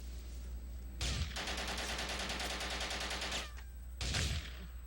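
Squad soldiers open fire in an Xbox game: loud bursts of rapid automatic gunfire, one sustained volley of about two seconds bracketed by short heavy blasts, with no talk over it.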